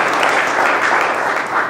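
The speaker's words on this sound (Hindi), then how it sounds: "जोरदार तालियां से धन्यवाद दें महान खुदा का।" A church congregation claps loudly in a short, dense burst of applause from many people, filling the room evenly from start to end.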